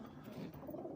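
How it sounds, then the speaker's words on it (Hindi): Pigeon cooing nearby, a low, soft throaty coo rolling steadily through the whole second, with no other sounds around it. "ये नंबर 5 पर ये कबूतर"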